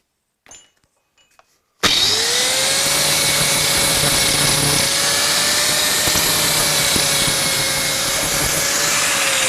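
A power tool grinds paint off a Suzuki GS1000 motorcycle part, starting abruptly after a short near-silent pause with a few light knocks, then running steadily loud and whining for the rest, with no talk.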